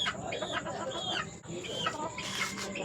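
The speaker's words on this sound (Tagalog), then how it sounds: "Ito po yung inahin natin ha." A black Alabama gamefowl hen gives a few close, throaty clucks in short bursts, alone with no voices.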